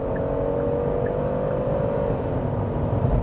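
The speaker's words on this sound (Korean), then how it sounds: "가속 페달 한 번만 또 꾹 밟아볼게요" A Genesis GV70 3.5T AWD with the sport package accelerates hard under a full press of the pedal, its engine droning steadily and loudly from inside the cabin with a low, sustained rumble.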